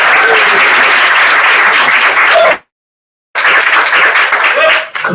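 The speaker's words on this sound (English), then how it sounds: "So that round of applause is for all of you" An audience breaks into loud, close applause in two bursts, separated by a brief total silence where the sound cuts out; the dense clapping resumes at the same full strength afterward.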